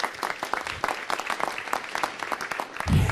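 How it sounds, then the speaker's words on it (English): Audience applause at a city council meeting, a room of people clapping rapidly and continuously at moderate volume, ending in a brief low thump. "Give her a round of applause, please"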